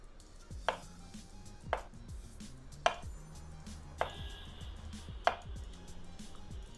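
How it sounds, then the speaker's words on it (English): Knife slicing food on a cutting board in the Cooking Simulator video game, a handful of crisp separate chops spaced about a second apart over a quiet background hum. "we're going to slice these up. To little itty bitty slices."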